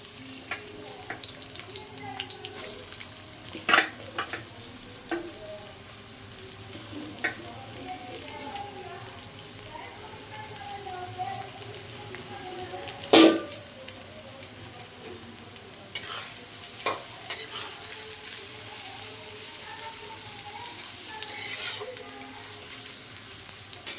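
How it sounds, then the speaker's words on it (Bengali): Chopped onions frying in hot oil in a kadai, a soft constant sizzle with scattered clicks and stirring scrapes, fairly quiet and close, with a few sharper knocks along the way. "তেল গরম হয়ে গেছে বন্ধুরা, দিয়ে দিচ্ছি পেঁয়াজ কুচি।"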